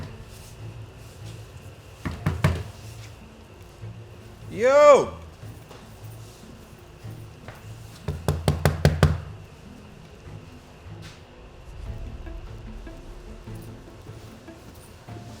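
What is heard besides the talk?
door being rattled and pushed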